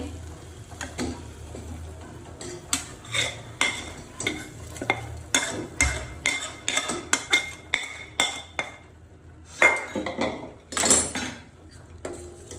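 A spoon stirs cornflour slurry into boiling Manchow soup in a pot, making repeated close clinks and scrapes against the metal in an irregular rhythm, with quiet pauses between strokes.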